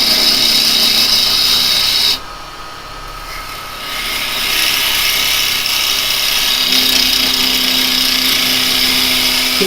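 A woodturning gouge cuts wood spinning on a lathe, producing a loud, continuous high-pitched shaving hiss that drops away briefly and then resumes steadily.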